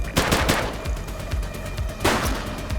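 Rapid bursts of video game gunfire in The Precinct police game, a dense run of loud close shots with sharp repeated cracks and a fresh volley near the end, no talk over it.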